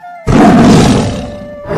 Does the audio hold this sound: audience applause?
no